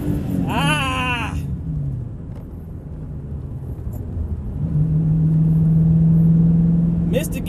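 A Dodge Challenger R/T on a quarter-mile run revs hard at the start, its engine dropping to a lower rumble after a missed gear, then droning steadily again; no talk over it.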